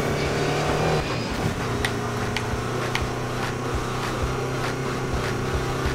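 Engine of a Land Rover Defender racing in the video game Need for Speed Payback, a steady loud drone throughout with sharp clicking accents over it and no talk.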